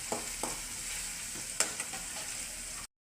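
A few curry leaves frying in hot oil give a bright, steady sizzle with small crackling pops near the start and middle before it cuts off.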